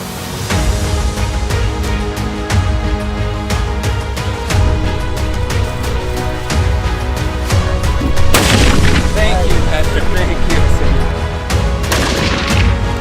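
Gunfire during an African buffalo hunt on the plains, with repeated sharp shots and booms spread through a busy, loud outdoor scene, a heavier burst later on.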